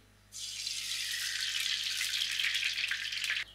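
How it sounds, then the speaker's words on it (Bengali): Oil hits a hot wok with a sudden loud sizzle that starts sharply, holds steady as a bright hiss for about three seconds, then cuts off abruptly; no voices. "কড়াইটা গরম হয়ে গেছে। এবার আমি কড়াইতে তেলটা দিয়ে দিই।"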